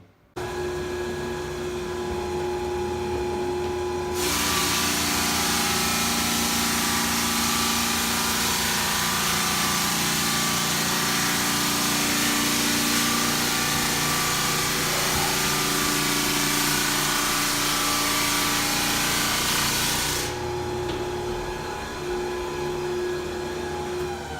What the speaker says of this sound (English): Make sure you gradually lift or put down the drum as you're moving so that you don't cause any big gouges in the wood.